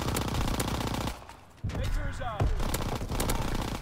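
Light machine gun fire in Call of Duty, with sustained rapid bursts of automatic shots, a brief lull, then renewed heavy firing, loud and close.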